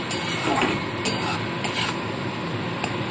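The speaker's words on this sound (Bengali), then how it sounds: "মশলাটা এখন খুব ভালো করে কষিয়ে নিতে হবে" Spice masala with a splash of water fries in a pan for a pointed gourd curry, giving a close, steady sizzle broken by a few scraping stirs of a spoon against the pan.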